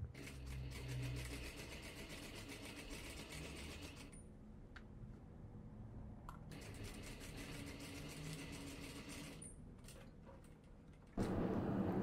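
A sewing machine stitching a dress seam, joining the lower back to the waistband in rapid, even mechanical ticking, quiet and close, with a few brief pauses between runs.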